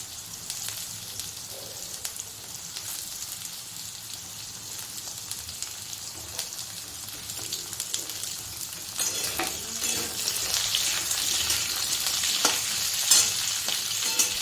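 Onion frying in hot oil in a pan, a steady crackling sizzle that grows louder and busier toward the end, heard up close with no talking.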